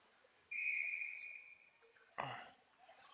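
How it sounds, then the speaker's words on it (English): A referee's whistle at a varsity ice hockey game gives one sustained, fairly loud blast that fades out, followed by a sharp thud or bump of play in the rink. "Why did we get a whistle?"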